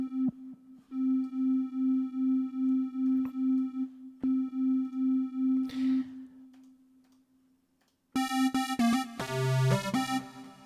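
UVI Electro Suite synthesizer playing a plain sine tone with the filter fully open, repeated pulsing notes for about eight seconds, a pause, then a brighter, buzzier saw-like tone with shifting pitches.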